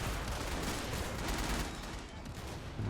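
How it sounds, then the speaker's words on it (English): Heavy sustained gunfire pours onto Japanese defenders during a USMC beach landing in the Men of War Assault Squad video game, a dense, continuous crackle of rifle and machine-gun fire heard at a distance, fairly faint and with no talk. "Look at the amount of fire being put on these Japanese defenders here."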